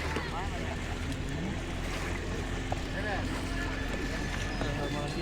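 A speedboat runs on open water at a riverside beach, its steady engine drone blending with wind and lapping water, while people talk and call out over it throughout.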